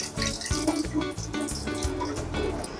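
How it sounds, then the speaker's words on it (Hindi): Water from soaked rice for kheer pours out into a sink, a steady running, splashing flow lasting throughout with fluctuating gurgles and no talk. "तो इसका पानी मैं पहले निकाल देती हूँ"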